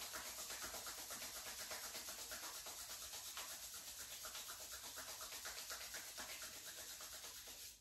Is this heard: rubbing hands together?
yes